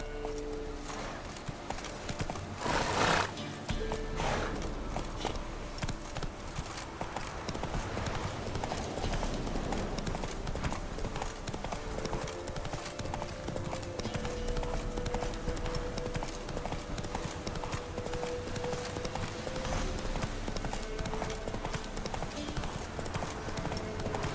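Hooves of Roach, Geralt's horse in The Witcher 3, clip-clop in a steady, continuous rhythm with an occasional whinny, heard up close throughout a long stretch beneath game ambience.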